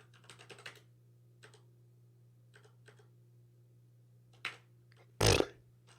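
Scattered bursts of typing on a computer keyboard, quiet clicks in short clusters with pauses against a low steady hum, ending in a louder brief rustling thump.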